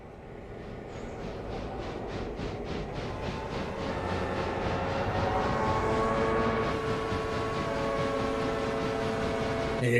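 Locomotives throttling up in the train simulator game Railroader, a steady diesel engine drone with rhythmic pulsing that grows louder and rises in pitch as the engines rev, continuing without talk.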